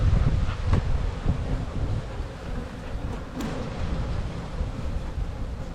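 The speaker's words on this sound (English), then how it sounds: "Bees are a little feisty this morning." Honeybees buzz around an opened hive during an early-season colony inspection, a continuous low drone with wind rumbling across the microphone and occasional louder passes of individual bees close by.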